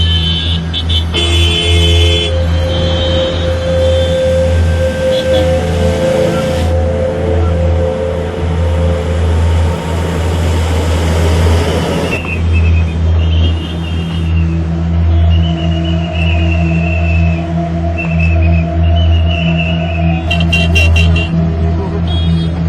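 Road traffic in Gurgaon during waterlogging: a steady loud engine hum and idling cars, with several short horn toots and a brief passing rev, with voices faintly under the drone.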